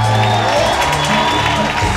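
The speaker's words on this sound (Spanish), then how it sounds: "¡El aplauso para la doña!" A concert crowd applauds and cheers for the singer at a live show, a loud wash of clapping and shouts mixed with music and voices.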